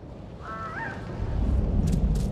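A bird squawks in the Gollum video game, a short honking, goose-like call with a rising then falling pitch, heard once against a low rumbling cave ambience.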